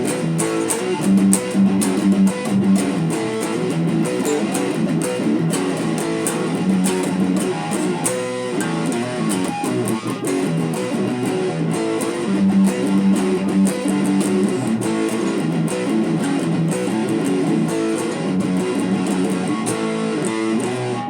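An electric guitar plays the riff that follows the solo in a song: a fast, continuous, palm-muted distorted figure, loud and steady throughout with no talking.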